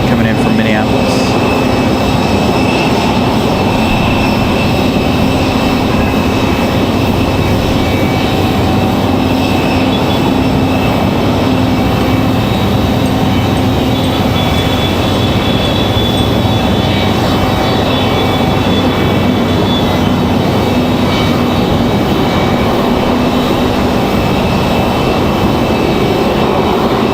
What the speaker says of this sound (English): It's the A320 coming in from Minneapolis.